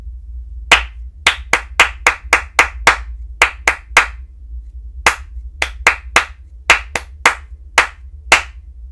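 Hands clapping a rhythm exercise from a music lesson, about two dozen sharp, close claps in quick groups with short pauses, each one crisp and alone with no talking.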